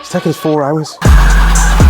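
A BMW E46 Touring with a swapped B58 engine idles with a deep, loud rumble that starts abruptly midway, after someone speaks briefly over quieter background.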